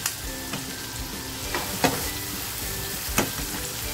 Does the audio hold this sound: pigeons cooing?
no